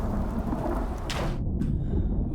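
A lightning strike and thunder in the Icarus video game, set in a rainstorm: a sudden crackling burst rips through steady heavy rain and a low rumble, close and loud, with no voices.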